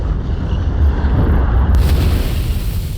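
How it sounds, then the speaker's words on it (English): The sun exploding in the video game Outer Wilds, a loud continuous deep rumbling roar that fills the whole stretch with heavy low booming and a brighter hiss entering partway through. "the sun's exploding already"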